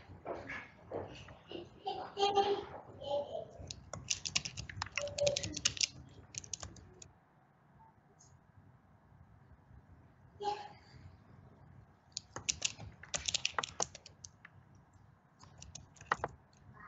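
Fast bursts of typing on a computer keyboard during an online game of Town of Salem, the clicks coming in irregular clusters separated by pauses, with faint background voices in places.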